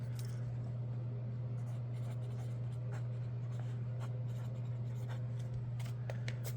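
A copying pencil scratches across paper in steady, close handwriting strokes, a soft continuous scraping with small bursts as letters form, set against a constant low hum.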